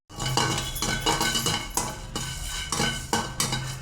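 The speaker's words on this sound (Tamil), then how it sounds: "பூண்டு ஒரு 5 கிராம் ஆட் பண்ணிக்கலாம்." Garlic tossed into a hot pan while making chicken masala powder, giving a run of clinks and scraping strokes of a utensil against metal, steady and close with no talking.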